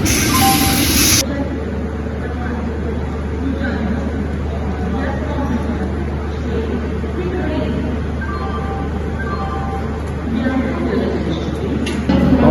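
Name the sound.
Swarna Shatabdi Express train with its engine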